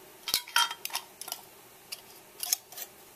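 Two-piece metal canning lids being screwed onto glass jars of dill pickles, a few short clicks and scraping twists of metal on glass in quick bursts, close and fairly quiet.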